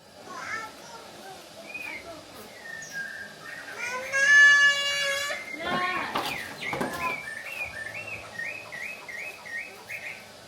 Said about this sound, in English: Their songs fill the air every morning, making the countryside feel even more peaceful.